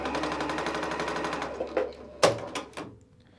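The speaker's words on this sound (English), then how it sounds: "And I'm gonna keep just sewing, making a little strip here." A sewing machine runs steadily as it stitches a fabric scrap strip, a continuous buzzing whir that ends in a few louder clunks and knocks as it stops.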